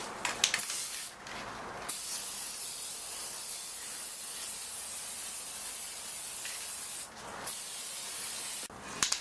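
A spray paint can coating a chrome Tundra grill surround, a loud steady hiss in long continuous passes broken by a few short pauses and clicks of the nozzle, close up with no talking.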